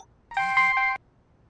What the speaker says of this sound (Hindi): एक मिनट, मैं तिवारी जी को फोन करता हूँ